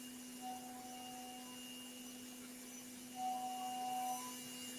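A CNC machine spindle running at up to 15,000 RPM while milling a firearm part, producing a steady, even whine with sustained tones and a faint swell toward the end.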